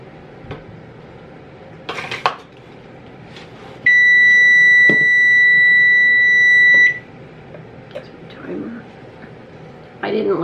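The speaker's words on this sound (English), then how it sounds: "so there was my timer." A kitchen timer alarm goes off while a flour-free chocolate cake is being made, a loud steady electronic tone that holds for about three seconds, with faint kitchen clatter before and after.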